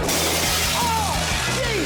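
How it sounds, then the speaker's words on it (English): Glass windows shatter and crash during a house demolition, a dense continuous roar of breaking debris with rumbling lows, faint whistling tones drifting through, and distant voices underneath. "We got windows, glass, explosions everywhere!"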